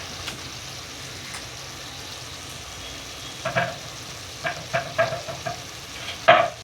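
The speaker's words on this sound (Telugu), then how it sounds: "ఆయిల్లో బాగా మరుగుతుంది మటన్లో" Mutton cooking in hot oil in a pan for curry, a soft steady sizzle with several louder bursts of stirring and spattering toward the end.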